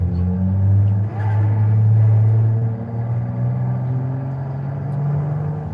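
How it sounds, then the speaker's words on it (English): A turbocharged car engine in Forza Horizon 5 drones steadily with a deep, throaty hum, holding a fairly even pitch with slight swells as it revs. "That turbo sounds fantastic"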